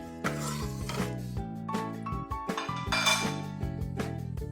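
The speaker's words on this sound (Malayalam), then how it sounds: "ഒന്ന് ഇളക്കി കൊടുക്കാം." Wheat and water stirred in a pressure cooker for Kerala-style wheat pradhaman, a few close metallic clinks and scrapes of a spoon against the pot under steady background music.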